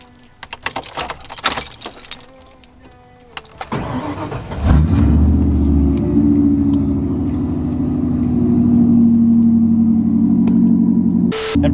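Keys jangle and rattle in the cab of a 1995 Ford F-150 pickup before the engine cranks, catches and settles into a loud, steady idle that swells slightly as it revs, close up and with no talking.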